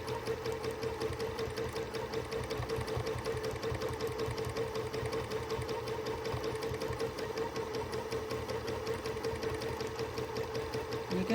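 A sewing machine runs satin stitch over a quilt seam in free motion quilting, a steady, fast, close mechanical hum with rapid even needle pulses throughout.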